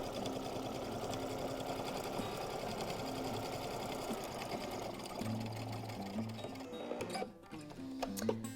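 Domestic sewing machine stitching through thick denim jeans fabric, a steady continuous motorized whir and needle chatter that runs unbroken, with a brief pause and restart near the end.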